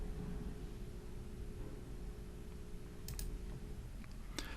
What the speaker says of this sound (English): To create the report, click Report.